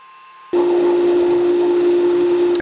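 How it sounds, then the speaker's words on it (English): A belt sander starts abruptly and runs with a steady, loud motor whine while it sands the edges of a wooden crankbait, then cuts off sharply. "Now I'm just going to use the belt sander to clean up the edges before I get into the joint."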